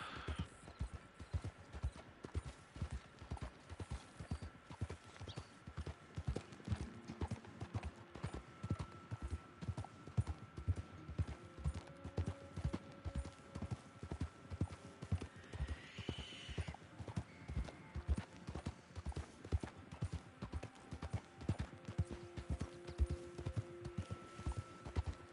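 Horse in Red Dead Online trotting along with an even, rapid clip-clop of hooves, moderately near and steady for the whole stretch, with faint background game sounds.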